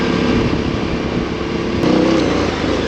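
A dirt bike on a single-track trail holds a steady, loud engine drone, rising slightly near the end, with no voices over it.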